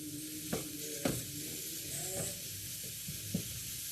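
Shiitake mushrooms sauté in a pan with a soft, even sizzle, broken by a few light scrapes and taps of stirring at irregular moments.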